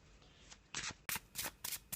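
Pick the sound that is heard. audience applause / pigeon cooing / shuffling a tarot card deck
shuffling a tarot card deck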